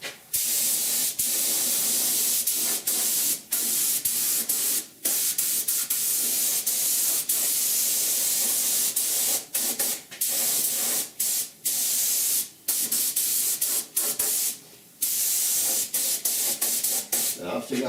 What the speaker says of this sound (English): So I'm going to prime that first.